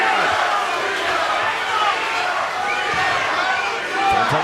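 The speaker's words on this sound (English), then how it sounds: "The chant of Reber from the sold-out Florida crowd." Sold-out Florida crowd at a bare-knuckle fight night in Clearwater chanting a fighter's name, a dense, loud, continuous roar of many voices filling the arena.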